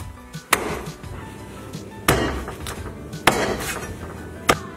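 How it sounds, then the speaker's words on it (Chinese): Guizhou Miao-style cured fish is chopped into small pieces on a board with four sharp, widely spaced knife strikes, each a crisp close thud followed by a brief ring. "把它切成小的"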